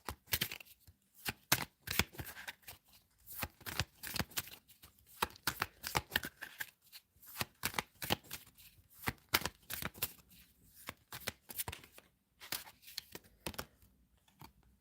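Fortune cards being shuffled and drawn from a deck: a run of quick, crisp papery flicks and riffles in irregular bursts, close and fairly soft, with short pauses between handfuls and no voices.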